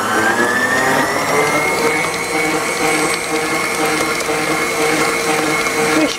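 An electric mixer runs steadily for about six seconds, loud and close, whirring as it beats cooked pumpkin, oil and eggs into a batter for pumpkin fritters. No voices are heard.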